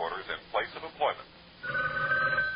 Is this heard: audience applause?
no